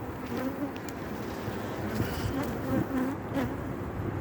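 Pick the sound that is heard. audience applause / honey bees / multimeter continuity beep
honey bees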